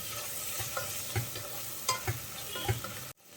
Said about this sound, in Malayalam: മല്ലിയിലയും കൂടെ ചേർത്തിട്ട് ഒന്ന് വഴറ്റിയെടുക്കാം.